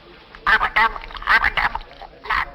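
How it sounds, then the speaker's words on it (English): A tame raven in a pub gives a series of short, harsh croaking calls in uneven bursts, close and fairly loud in an indoor room. "Hello, a tame raven."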